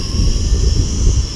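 A Visuo XS809H folding drone, a DJI Mavic clone, spinning up its motors for takeoff outdoors, a loud close steady whine with a high tonal note over a low buzzing rumble.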